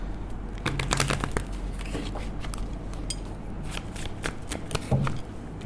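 Tarot cards are shuffled by hand close up in repeated crisp riffling bursts, with flicks and soft taps between them and no voice.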